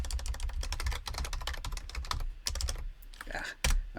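Rapid clicking of a computer keyboard while someone codes, dense irregular keystrokes in quick bursts with a brief pause near the end, close and crisp, with faint talk.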